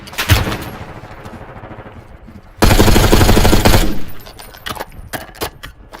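Gunfire in Call of Duty Warzone, scattered loud shots, then a long sustained automatic burst lasting over a second, followed by more sporadic single shots, with brief talk.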